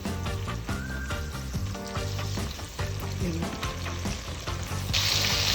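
Turkey bacon searing in a pan, a loud continuous close sizzle that grows brighter near the end, with background music beneath it.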